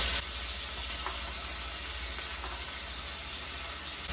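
Steak searing in a hot pan, a steady broadband sizzle and hiss holding at an even level throughout, with no voices over it.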